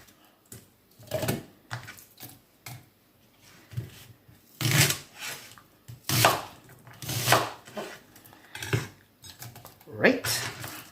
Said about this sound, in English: 1 onion, which I'm just going to cut into smaller pieces so it's easy to blend.